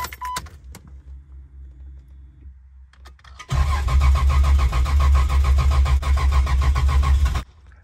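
A 2JZ-swapped Jeep engine cranks after a few clicks, then catches and runs loudly at a rough, rumbling idle for several seconds before cutting off, close by with no talking.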